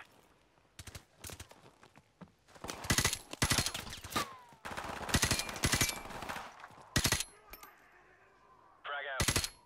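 Bursts of automatic gunfire in Call of Duty: Modern Warfare Remastered, several loud rapid volleys separated by short gaps, with a faint echoing tail and a brief mechanical whine near the end.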